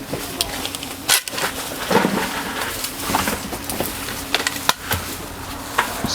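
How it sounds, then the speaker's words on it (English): Leaves and twigs are chopped for a wood-chip garden bed in Hawaii, giving sharp, irregular whacks and crunches at close range over a faint outdoor background, with brief murmurs of voices. "start chopping that down."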